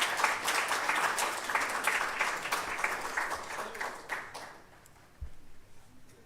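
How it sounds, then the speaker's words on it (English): An audience applauds at the opening ceremony of a quality-week event, a dense, full burst of many hands that carries strongly for about four seconds, then thins and fades away to near quiet. "let's clap for him"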